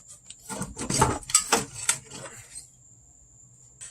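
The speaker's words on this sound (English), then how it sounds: "we're just going to take a wire brush and clean around where the old brake booster was" A wire brush scrubs the bare metal around an old brake booster mount on a Chevy Blazer/S10, in a burst of several short, close rasping strokes that trail off into quiet with a faint steady whine.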